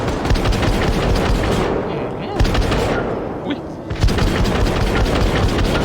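Video game gunfire from the shooter Syndicate, rapid bursts of automatic fire that keep going loud and dense, dropping out briefly twice before resuming, with a voice talking over it.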